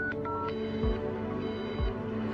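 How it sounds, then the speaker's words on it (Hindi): A mobile phone is dialed to call another mobile, giving a quick series of electronic keypad tones over a soft background hum. "मैं अपने मोबाइल पर ही फोन करके देखता हूँ।"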